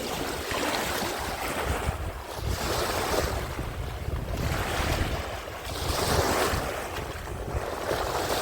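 Rough sea surf at an Odesa beach (Lanzheron, Otrada), a steady loud wash of breaking waves with rolling surges and wind noise buffeting the microphone, no talk.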